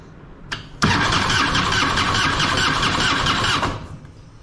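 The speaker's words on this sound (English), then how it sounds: "what we're going to do is we're going to start the bike and see where we are volt wise" A Harley-Davidson bagger motorcycle fires up after a short starter crank, then runs at a steady, loud idle before cutting off near the end.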